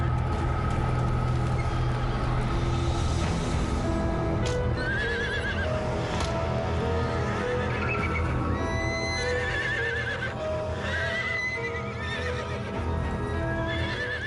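Horses whinny and neigh repeatedly over a steady background rumble, with hooves clopping nearby; a frightened mare among them, the calls come in agitated bursts throughout.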